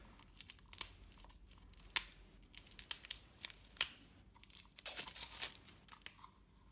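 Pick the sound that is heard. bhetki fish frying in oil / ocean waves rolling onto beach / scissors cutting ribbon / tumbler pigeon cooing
scissors cutting ribbon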